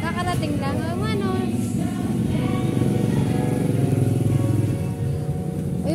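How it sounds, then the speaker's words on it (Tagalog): A motorcycle engine runs nearby with a steady, buzzing drone that holds through the whole stretch, while a person talks over it near the start. "Ayun pala yung motor ni Kuya Jody."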